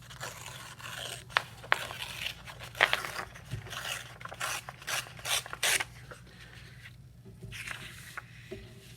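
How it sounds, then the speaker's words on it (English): Paper or fabric torn by hand in one straight, steady pull, heard as a close, soft rasping rip of uneven bursts over a low background hum. "Let's see how just kind of a straight kind of tear would look."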